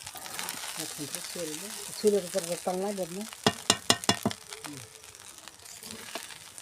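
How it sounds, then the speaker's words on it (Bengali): Fried rice with carrots, raisins and beans being stirred in a small wok, with soft scraping and a light sizzle running under a woman's close-up speech, then a burst of spatula clatter near the end. "এক এক করে গাজর, কিশমিশ, বিন এগুলো সব ছড়িয়ে দেবো, দিয়ে নাড়বো ভাতটাকে।"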